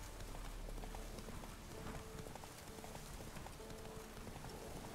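Hooves of the horse Roach galloping in the video game The Witcher 3: a steady, dense clip-clop running the whole time under a constant wash of rain-like ambient noise.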